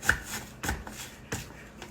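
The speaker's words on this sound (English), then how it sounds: "I'm just going to turn them the other way real quick and go so it's chopped up a little bit more instead of just slices" A knife chops sliced cheesesteak filling on a cutting board for a pizza topping, three distinct close thuds spaced a little over half a second apart, heard alone without talk.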